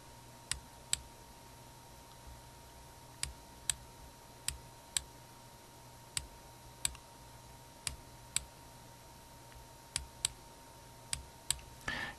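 A computer mouse button clicking while dragging, sharp isolated clicks, often in quick pairs, spaced a second or so apart and heard close and alone over a faint steady hum.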